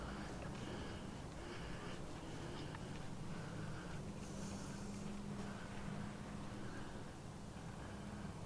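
Steady wind rushes and buffets the microphone outdoors on a castle hill, a constant low rumble with no talking.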